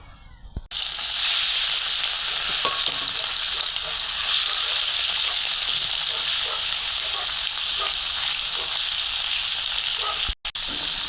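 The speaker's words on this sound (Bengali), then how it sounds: "ট্যাংরা মাছ হলুদ দিয়ে মাখাইয়া নিলাম, এখন ভাজি করব।" Tengra fish coated in turmeric fry in a pan, a loud, steady hiss and crackle of hot oil that begins abruptly and keeps going with small pops until a brief break near the end.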